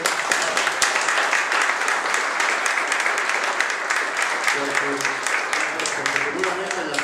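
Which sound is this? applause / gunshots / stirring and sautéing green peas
applause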